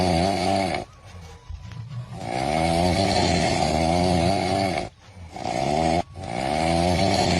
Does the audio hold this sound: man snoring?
yes